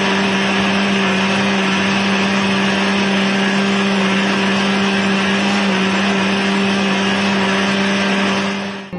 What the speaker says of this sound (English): Put the small cubes of mangoes into the grinder and have a smooth paste of it.